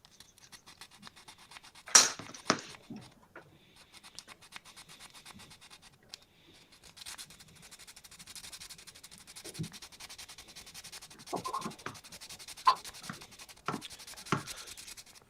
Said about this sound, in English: A filing session.